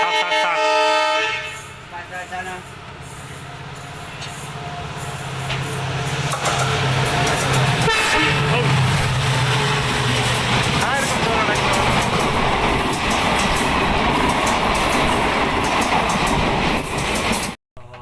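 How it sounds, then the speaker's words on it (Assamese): A train pulls into Kamakhya Junction, opening with a loud, drawn-out horn blast, then building into a continuous rumble and rolling clatter of wagons passing close by, with voices heard over it. "চাওক এখন ট্ৰেইন আহি আছে, চাওক কিমান স্পীডত আহে"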